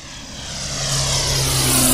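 A small propeller airplane engine roars at takeoff power, swelling steadily louder and nearer over two seconds, with a droning propeller tone that rises in pitch as the aircraft accelerates.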